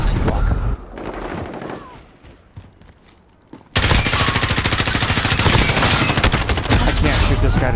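Shotgun gunfire in a video game: a few scattered blasts, then a quieter lull, then a sudden loud sustained barrage of rapid shots.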